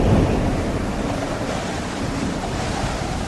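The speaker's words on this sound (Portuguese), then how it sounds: "um vento muito forte, chamado Nordeste, veio da ilha e arrastou o navio" A strong northeast wind blows off an island near the coast of Crete while sea waves roll and surge, a steady loud roar with constant wind buffeting and no voices.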